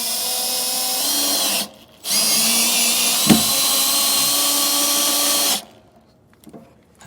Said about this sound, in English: we'll get this drilled out and drill through the frame rail.